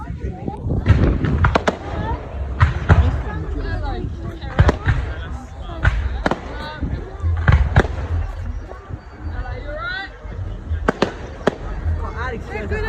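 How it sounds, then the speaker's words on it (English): Fireworks burst repeatedly outdoors, sharp cracks and bangs at irregular intervals over a constant crowd murmur, with people talking and calling out among the explosions. "Alex scares us by the fireworks."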